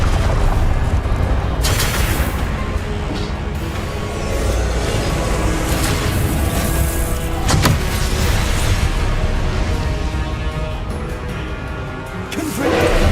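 Repeated Confringo blasting-spell explosions in the Hogwarts Legacy game, loud booming bursts over a dense, continuous din of combat effects with sharp impacts near 2, 7.5 and 12.5 seconds.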